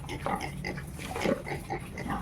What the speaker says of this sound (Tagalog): Yung dalawa nating baboy, ito yung malapit na manganak.